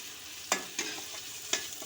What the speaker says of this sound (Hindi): टमाटर डालकर थोड़ी देर उसको सॉफ्ट होने तक भूनेंगे